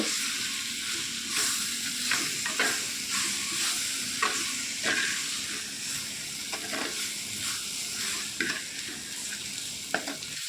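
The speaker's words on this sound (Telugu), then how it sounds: "స్పైసెస్ యాడ్ చేసిన తర్వాత బాగా వేపుకోవాలి" Drumstick pieces frying with chilli powder and garam masala in a pan: a dense, continuous hissing sizzle with repeated scraping strokes of a spatula stirring through it, steady and close, no speech.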